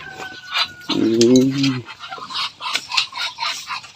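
Ducks and chickens cluck and honk in their coops, a loud honking call near the start followed by scattered clucks and squawks, with someone talking intermittently over the birds.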